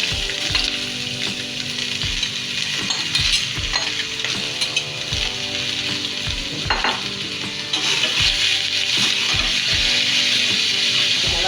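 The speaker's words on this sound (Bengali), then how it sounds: "এখন আমি একটা আলু দিয়ে মুরগিতে একটা ভাজা করব" Chicken pieces fry in oil with potatoes and red and green chilies, a loud, steady sizzle under repeated rhythmic scrapes and knocks of a spatula stirring the pan, close up and with no talking.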